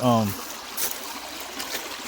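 Old creek water trickling and streaming steadily outdoors, a soft continuous wash with faint splashes, following a brief voiced sound at the start.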